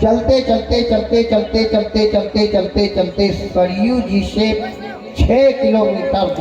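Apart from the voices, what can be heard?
None of the usual background noises is heard.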